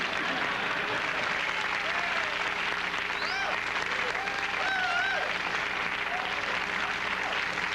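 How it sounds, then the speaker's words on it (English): Studio audience applause on a late-1970s television talk show, a steady broadband clapping wash lasting several seconds with voices and faint whoops mixed in. "Little applause never hurt."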